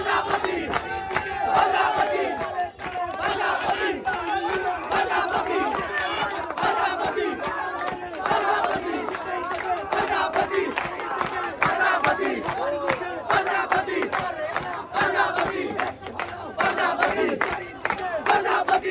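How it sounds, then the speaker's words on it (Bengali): A large election campaign crowd in Lohagara, Bangladesh rhythmically chants slogans for the butterfly symbol, with many voices shouting together in a steady, energetic call-and-response that continues unbroken, loud and close. "প্রজাপতি মার্কা বিভিন্ন ধরনের সুন্দরভাবে স্লোগান দিচ্ছে"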